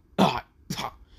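A voice imitates two rough coughs in quick succession, close and fairly loud, with a brief silence between them.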